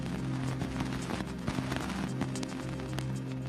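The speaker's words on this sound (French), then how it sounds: "Voici le bruit des poussières heurtant l'antenne de l'engin." Dense crackling and irregular ticking impacts over a steady low hum, dust particles striking the Cassini space probe's antenna near Saturn's rings, like grit pattering against metal, continuous throughout.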